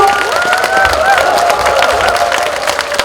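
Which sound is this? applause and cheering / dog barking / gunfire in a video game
applause and cheering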